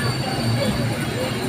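A passenger train rumbles steadily along the line between Vavdi and Jetpur on a rainy day, a constant loud rolling drone heard from inside the carriage.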